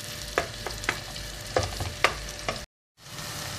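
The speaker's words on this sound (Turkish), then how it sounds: "Biraz da domatesimizi de kavuralım." Tomatoes and tomato paste sizzle in a pan while a spoon stirs them, giving a soft frying hiss broken by several sharp scraping clinks, then a brief silence before the sizzle resumes.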